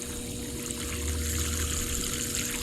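Dirty pool water drains out during a backwash of an Intex 1200 GPH Krystal Clear sand filter pump, a steady rushing flow with a constant hum, close and continuous.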